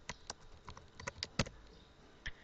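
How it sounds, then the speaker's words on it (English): Keys clicking on a computer keyboard while text is typed, in an irregular run of sharp taps followed by a pause and a few final strokes, close and fairly quiet with no talk. "you can type your text here"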